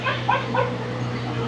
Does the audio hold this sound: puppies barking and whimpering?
yes